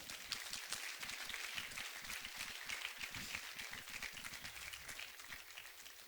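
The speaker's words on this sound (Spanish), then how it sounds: "Dale un aplauso al Señor." Congregation applauding in a church service, a dense, continuous wash of many hands clapping at steady loudness throughout, with no voices above it.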